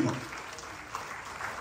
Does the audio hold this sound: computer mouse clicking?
no